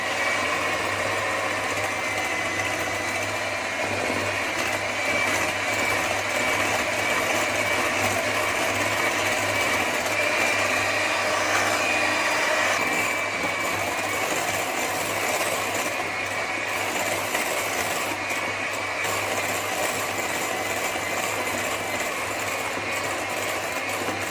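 An electric mixer whips cream with milk in a steady, continuous high-pitched whir and buzz that holds evenly throughout, with no talking.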